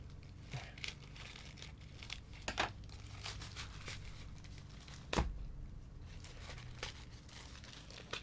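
A printed cardboard box being cut open with a blade, giving scattered crinkling, scraping and tearing sounds with a few sharp louder snaps, close and steady, with no talking.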